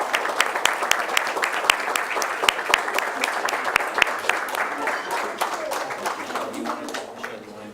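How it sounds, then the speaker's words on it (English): A school board meeting audience gives a round of applause, brisk clapping with distinct individual sharp claps standing out, holding steady before thinning slightly near the end. "So big round of applause"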